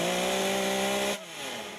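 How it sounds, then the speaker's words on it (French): A chainsaw runs steadily at high revs while pruning a tree, then drops off sharply as the cut ends, loud and close. "Dans cet arbre, Gaëtan est armé d'une tronçonneuse, il se forme à l'élagage"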